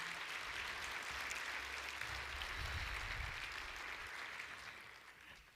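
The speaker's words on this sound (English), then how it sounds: "please join me in a big round of applause for that team" Audience applause at a hydrogen panel conference in a civic center, a soft, distant, steady patter of clapping sustained for several seconds before fading out.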